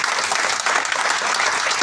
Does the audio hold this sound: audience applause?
yes